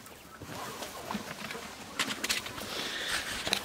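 Quails in a coop give soft, scattered calls and rustles, with a few sharper chirps toward the end, fairly faint and close by.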